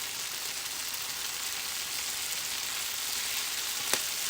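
Chicken wings fry in a pan with a splash of sesame oil, a dense, steady close sizzle throughout with one brief tap near the end.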